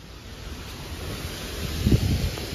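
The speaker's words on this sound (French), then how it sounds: "Le vent se lève, donc il y a vraiment beaucoup de vent." Strong gusting wind buffets the microphone at a sheep farm's sheepfold, a steady roar with rustling that swells louder near the end, no voices.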